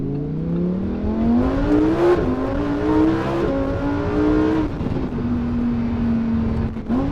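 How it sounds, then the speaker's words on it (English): A car engine climbs in pitch as it accelerates through gears, loud and close, with brief dips between shifts. "this car sounds amazing"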